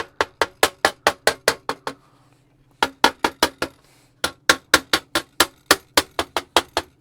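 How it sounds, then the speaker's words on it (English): A small rubber-headed mallet taps a part of a Ghostbusters Ecto-1 model car kit into place, quick sharp knocks in three bursts of about eight to ten each, separated by short pauses, close and crisp. "get out the persuader, this little guy with a rubber mallet head on it"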